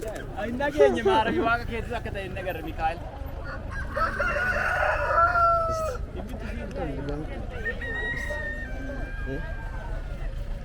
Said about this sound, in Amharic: ጋይስ ገዛን እኮ ዶሮ ገዛን።